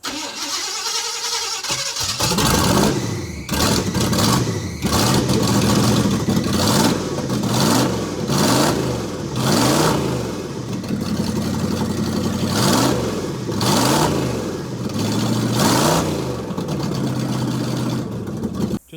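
Chevy van engine with a Flowmaster single-in, dual-out exhaust starts and then revs repeatedly in loud, rising and falling bursts, close up, with no talking.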